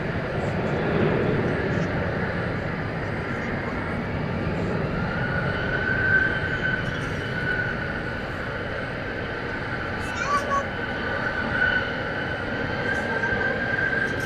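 An airliner departs Dallas Fort Worth airport at night for Guadalajara, a steady distant engine rumble with a faint whine, brief swells, and some light background noise.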